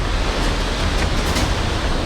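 Surging flood waves of the Song river in Dehradun roar as a steady, loud broadband wash of rushing water, continuous and close with no voices.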